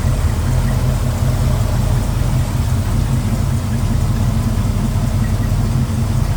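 A 1967 Ford Ranchero V8 with an Edelbrock four-barrel carburetor, HEI ignition and aluminum radiator idles steadily up close, a loud, smooth, even low rumble with no voices over it.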